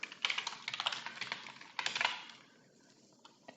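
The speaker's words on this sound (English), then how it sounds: "And I'm going to type in" Rapid clicking keystrokes on a computer keyboard, a close, busy run of taps in two bursts that then thin out to a few scattered presses.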